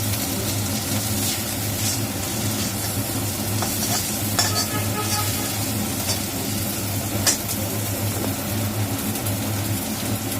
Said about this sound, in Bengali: কাঁচা লঙ্কাগুলোকে ফাটিয়ে দিচ্ছে